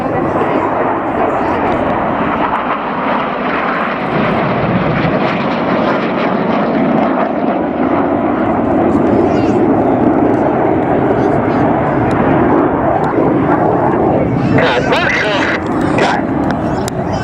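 Red Arrows jets fly in formation at the Cosford air show, a loud continuous engine roar that swells and sustains throughout, with commentary heard over it.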